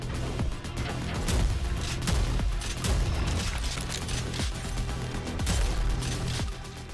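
Rapid shooting in the first-person shooter Prodeus, a loud run of repeated gunshots and heavy booms with steady mechanical combat noise beneath.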